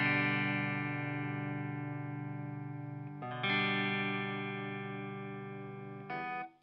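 Sustained chords on an electric guitar with the volume turned up, played through a repaired and modified Dallas Scala tube amp, ringing out with a warm, slightly driven tone and re-struck twice, alone and close.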